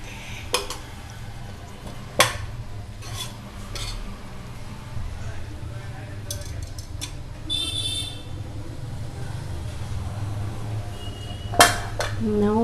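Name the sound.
flipping and gently mixing fish pieces in a pan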